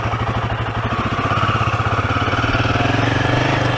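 A Royal Enfield Himalayan motorcycle engine runs steadily up close, a loud, even thumping throb with a rapid pulsing rhythm and mechanical clatter throughout.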